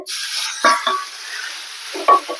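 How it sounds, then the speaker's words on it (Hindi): Ground flaxseed roasting in ghee in a pan over low to medium heat gives a faint steady sizzle, with a few soft scraping stirs as the mixture is pressed down. "लो टू मीडियम गैस पे इन्हें हमें अच्छे से भूनना है, इस तरह से दबा दबा कर अच्छे से"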